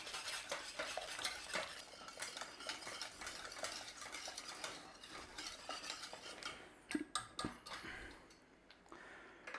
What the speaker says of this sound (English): I'm just going to quickly change to a whisk so we can get that fully incorporated in there